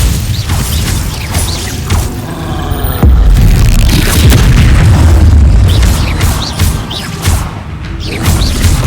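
Glacius, an ice spell cast in the video game Hogwarts Legacy, lands as a loud deep boom with whooshing and crashing effects, followed by rumbling mechanical swells and smaller impacts.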